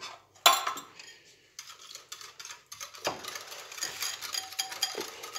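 Utensil clinks and scraping against a bowl as pancake batter ingredients, including natural yogurt, are mixed for chocolate pancakes, in irregular bursts of clatter with no talking.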